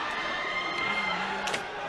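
Supporters of Todak and Evos Esports SG cheer and shout in a busy arena during an MPL Season 4 grand final match, a steady crowd roar with brief louder bursts.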